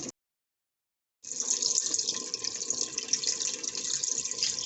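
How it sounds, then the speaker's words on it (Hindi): Half a glass of water is poured into cooking masala for palak gosht, a steady, close splashing pour lasting a few seconds after a brief silence. "अब इसके अंदर हम डालेंगे आधा गिलास पानी"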